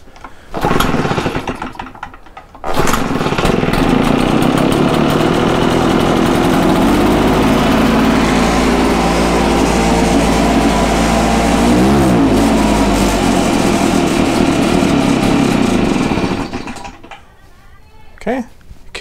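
An Echo PB-650 backpack blower's two-stroke engine runs steadily at a loud, close, buzzing drone for about fifteen seconds before cutting off, with brief handling noises at the start and end.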